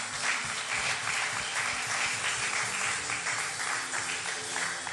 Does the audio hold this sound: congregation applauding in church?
yes